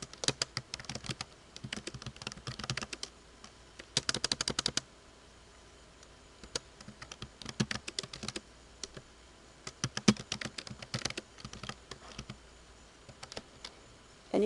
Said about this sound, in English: and start typing in here